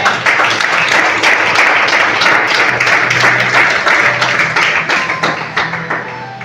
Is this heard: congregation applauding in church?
yes